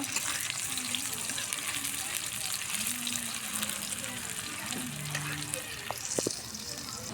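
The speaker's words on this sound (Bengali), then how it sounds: "পেঁয়াজটা আগে একটু ভাজে নিব" Onions frying in a pan, a moderate continuous sizzle with soft stirring, a faint voice murmuring in the background, and a few brief clinks near the end.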